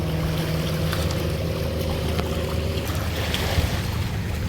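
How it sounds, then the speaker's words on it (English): Surf washing against a rocky shoreline beside a beach walkway on a bright day, a continuous broad roar of waves with wind noise and a low engine hum from passing boats. "Waves crash"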